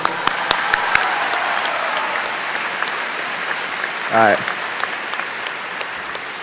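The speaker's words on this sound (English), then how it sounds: "Let's give ourselves a round of applause." Graduation audience applause rolls on as a broad wash of many hands clapping at a high school ceremony, with a voice speaking briefly over it near the start.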